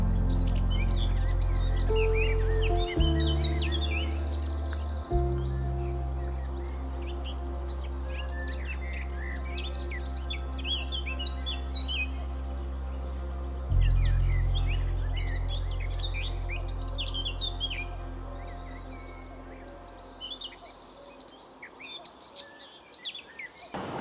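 Birds at the RSPB Fairburn Ings wetland reserve, where many coots gather: scattered chirps, tweets and squawks come from several directions over a steady low drone, with an insect-like trill at times and no talk.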